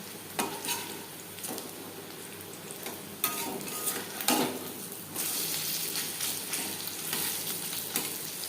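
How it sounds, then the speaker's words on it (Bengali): Jute leaf pakoras fry in hot oil over a medium flame, giving a continuous close sizzle with occasional louder bursts and light stirring clinks, no voices. "হাই ফ্লেমে তেল আমি গরম করে নিয়েছি বড়া বা পাকোড়া ভাজবো মিডিয়াম ফ্লেমে"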